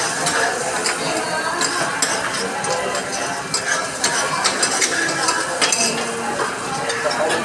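Busy street food grill on a Saturday night in a Philippine neighborhood, with continuous sizzling, stirring and metal utensils clinking against pans, loud and close, and voices talking faintly in the background.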